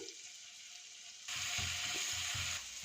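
Garlic paste fries in melted butter in a pan, giving a soft, steady sizzle that grows louder partway through, with faint stirring bumps, and no talk.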